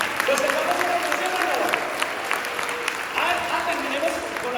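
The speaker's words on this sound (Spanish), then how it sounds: "regalémonos un aplauso a él" Applause for a person from a church gathering, steady clapping of moderate loudness with a voice speaking over it at times.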